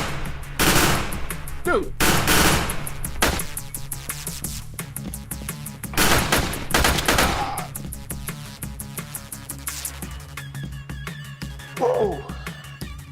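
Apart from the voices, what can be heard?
gunfire in a video game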